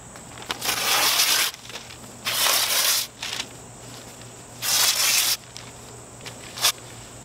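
Newspaper being torn into strips about 1.5 to 2 inches wide gives several loud, close ripping bursts, each lasting under a second, separated by short pauses, with a final quick tear at the end.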